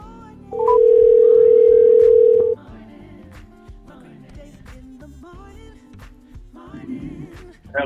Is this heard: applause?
no